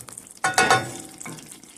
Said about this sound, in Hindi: तो अब इसको हम अच्छी तरह से भूनेंगे